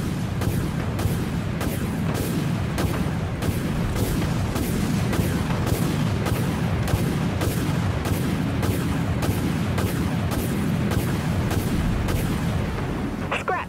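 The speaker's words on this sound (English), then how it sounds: "Missiles locked and ready to fire, Captain." Spaceship missiles fire in the Dreadnought video game, a steady barrage of rapid, booming launches repeating about twice a second over a constant loud rumbling battle background.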